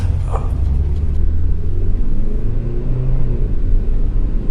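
A deep, steady rumble from a gigantic car, a Transformer, low and loud throughout with a continuous engine-like drone and no speech.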